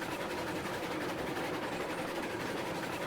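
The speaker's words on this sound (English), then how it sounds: "Quite fun being able to build a track and then drive a train on it." Train rolling along track in the Railroads Online video game, a low, steady rumble with faint repetitive clatter heard at moderate distance, continuous and without speech.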